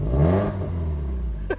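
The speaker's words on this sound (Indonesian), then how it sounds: "Mesinnya garing banget suaranya." Subaru Impreza engine revving briefly up close, a dry, raspy note that rises and settles within a second or two, loud and alone.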